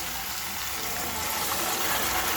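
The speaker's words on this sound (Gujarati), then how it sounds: "ચાલો આપણે એમાં થોડું પાણી એડ કરવાનું છે" Water gushes steadily into a pan of green chickpea curry, a loud continuous pour heard close up with no voices.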